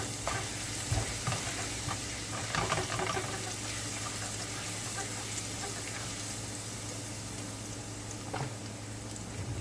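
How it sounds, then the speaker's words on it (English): Food sautéing in a pan for gourmet ramen noodles sizzles steadily, with a few scraping stirs and clinks near the start and again near the end. "Let it saute a little."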